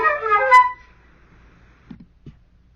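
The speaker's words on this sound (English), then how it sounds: "first, let's play the flute again." A flute plays a short phrase from Messiaen's blackbird music, a quick run of bright, close, clear notes rising to a sharp high trill before stopping, followed by a few faint low knocks in near silence.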